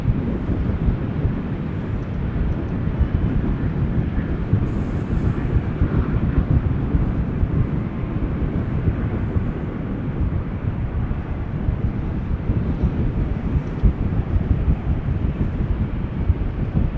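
A cargo aircraft taxis toward a gate beside runway 24 at Amsterdam Schiphol Airport on a rainy, wet day, a steady low engine rumble mixed with wind buffeting on the microphone. It holds constant and fairly loud throughout.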